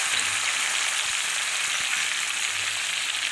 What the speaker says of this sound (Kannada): ಟೊಮೆಟೊ ಹಾಕ್ತೀನಿ.